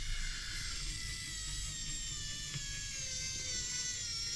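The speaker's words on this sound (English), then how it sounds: "my electric screwdriver is starting to run a bit flat" A cordless electric screwdriver with a weakening battery whirs steadily, driving screws back into a part of an Element RC car being modified. The motor whine is close and continuous, with no talking.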